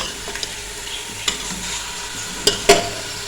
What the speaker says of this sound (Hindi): गोश्त अच्छे से भून चुका है और मैंने तकरीबन 7 मिनट तक इसको भूना